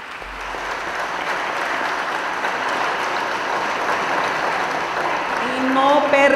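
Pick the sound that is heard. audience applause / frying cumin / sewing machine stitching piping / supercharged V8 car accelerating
audience applause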